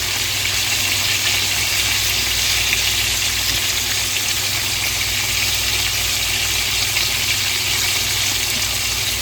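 Breaded copycat Chick-fil-A chicken pieces frying in oil in a pan, a steady, even sizzle and hiss running throughout with no talking.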